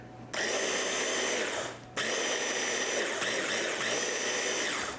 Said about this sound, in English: And I'm just going to give that a blend together just to kind of homogenize everything.